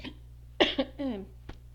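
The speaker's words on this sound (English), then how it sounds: "ever since I've been doing the reading here, I've had to clear my throat here" A person clears their throat a few times in quick succession, close and fairly loud, with short rough bursts against a quiet room.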